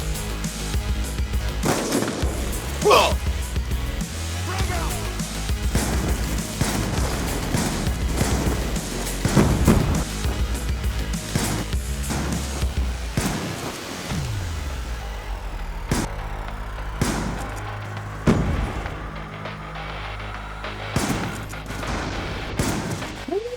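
Shotgun blasts from the KSG pump-action shotgun in Black Ops 2, booming repeatedly over ongoing gunfire and game noise, loud and close, with several heavy shots spaced a few seconds apart.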